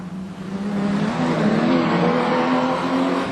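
A sedan race car at Carina Speedway held on the rev limiter at the end of the straight, a loud continuous buzzing engine drone with a slightly wavering pitch, sustained throughout with no talking.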